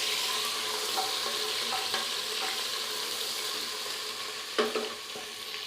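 Green chili paste sautéing in a pan for potato and pea biryani gives off a steady, loud sizzle, broken now and then by soft stirring scrapes.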